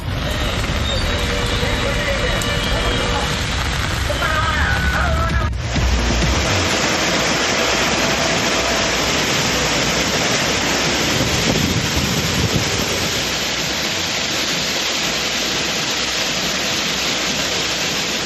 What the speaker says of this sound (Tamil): குற்றால அருவிகளில் இப்படி வெள்ளம் ஆர்ப்பரித்து கொட்டுவதால்